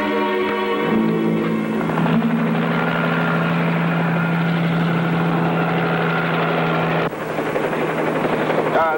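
Helicopter engine running steadily with a strong, continuous low hum and layered whine, loud and close throughout, with a slight shift in tone near the end.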